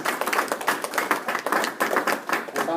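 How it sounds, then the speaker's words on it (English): A small crowd at an awards ceremony reception gives a round of applause, brisk, close and distinct hand claps in an uneven patter that stays steady throughout. "Round of applause for Peter."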